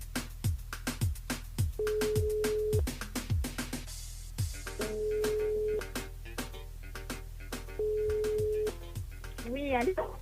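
An incoming call on a radio station's phone switchboard sounds as repeated steady electronic beeps, separated by clicks and bursts of other sound, with voices speaking around it.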